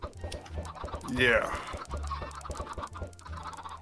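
Chickens in the video game Minecraft cluck repeatedly in a steady run of short game-style squawks. People talk casually over the clucking throughout.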